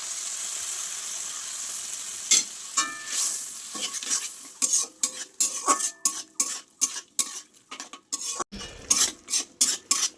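Winter vegetables fry in a pan as a spatula stirs them in quick repeated scraping strokes, close and rhythmic over a softer background sizzle.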